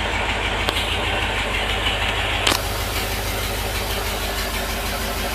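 A 1973 International Loadstar Blue Bird bus engine idles just after a cold start: a loud, steady, rumbling idle with a rhythmic knock, plus a brief click midway, and no talking.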